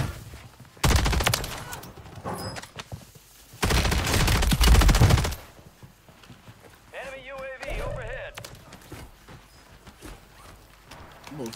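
KAR98K rifle fire in Warzone rings out in loud, sharp cracks, two heavy bursts of gunfire with echoing tails, followed by quieter scattered shots and footsteps while players talk.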